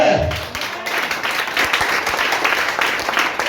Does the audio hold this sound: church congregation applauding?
yes